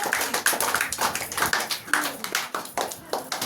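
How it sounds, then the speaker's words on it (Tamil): An audience at a Tamil debate event claps in a loose, uneven patter of sharp individual hand claps close by, with no voices over it. "நல்லா ஜோரா கைத்தட்டு, நல்லா கைத்தட்டு."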